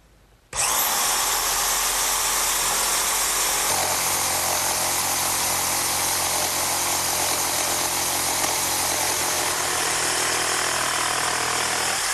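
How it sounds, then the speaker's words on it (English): A portable jigsaw cuts through wood with a loud, steady buzzing whine that starts abruptly and runs continuously, its tone shifting slightly as the blade works through the board. "this portable jigsaw will do just fine."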